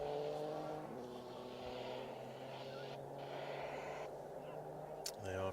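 Rally car on a Welsh rally championship stage, Nicky Grist Stages, engine droning at a distance with shifting revs, fairly faint, a commentator's voice talking over it.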